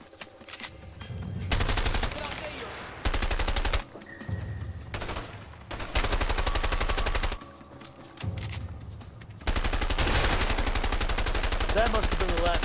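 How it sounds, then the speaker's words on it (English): Shotgun blasts in the video game A Way Out, loud repeated bursts of gunfire arriving in several separate spells broken by short quieter gaps. "trying to snipe with a shotgun"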